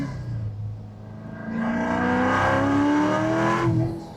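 A supercharged Corvette C7 with an ESS supercharger accelerates hard in first gear, its engine note rising in a steady loud harmonic whine that swells after a brief lull and holds strong before easing off at the end.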